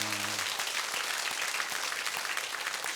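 A church congregation at a Korean Presbyterian baptism service applauds together, a soft, even wash of many hands clapping heard from a distance throughout, with a brief voice at the very start.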